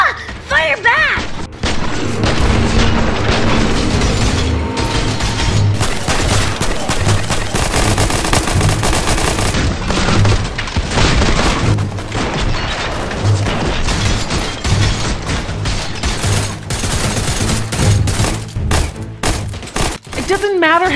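Rapid bursts of gunfire and heavy explosions from the video game Fortnite, loud and near, crackling almost nonstop with booming impacts, while voices shout over the firefight.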